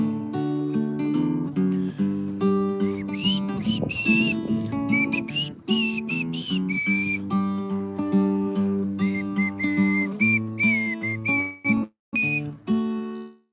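Whistling outdoors in cold weather in Big Bend National Park, a clear melodic line that wavers above a dense, steady musical accompaniment throughout.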